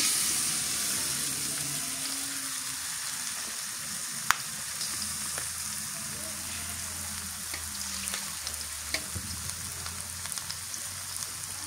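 New potatoes fry in a pan with a steady, dense sizzle while being stirred, with occasional sharp scrape clicks from the utensil and no voices.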